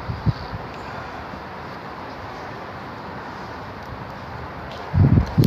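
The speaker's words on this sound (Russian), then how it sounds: "Ветер хуярит жесткий." Steady rushing wind noise fills the whole stretch, with brief louder gusts buffeting the microphone at the start and end.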